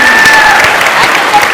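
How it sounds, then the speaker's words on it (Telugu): A studio audience at a Telugu television show applauds loudly and steadily, the many hands merging into a close, continuous roar that fills the whole moment. "అందుకే మీరందరూ ఒకసారి చప్పట్లు కొట్టండి"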